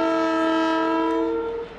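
An export freight train running from Turkey to China, reaching Georgia, sounds a loud, sustained horn close by with steady tonal chords that hold for nearly two seconds before easing off slightly.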